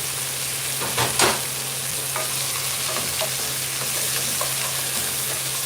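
Beef sizzles steadily in a hot pan, with a few clinks and scrapes of a utensil stirring it, close by and alone.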